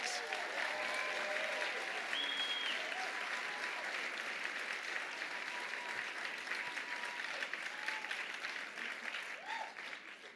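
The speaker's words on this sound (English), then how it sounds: "Please give them a round of applause." A roomful of gala guests at the Ars Nova benefit ball gives John and Jenny a round of applause, a sustained, full clapping roar with occasional whoops and voices mixed in, tapering slightly near the close.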